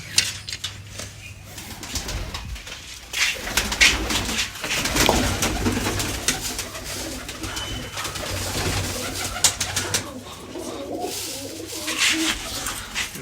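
Pigeons pecking at freshly scattered grain keep up a continuous low rolling coo, several birds close together murmuring over a soft background rustle.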